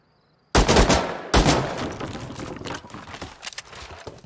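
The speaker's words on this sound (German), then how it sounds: "Irgendwas ist gerade auf meinem Dach explodiert." A sudden loud explosion blast on a rooftop in the game Rust, followed by a second burst and a long crackling, rumbling decay with scattered pops.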